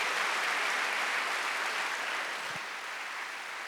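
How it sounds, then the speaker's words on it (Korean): Applause from a church congregation at a Sunday worship service fills the room as a dense, steady wash of clapping that eases off slightly toward the end, with no voices over it. "박수야"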